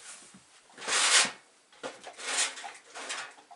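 A rubbing alcohol bottle set back into a tray, giving a couple of close, fumbling plastic clunks and rustles with short pauses and no talking.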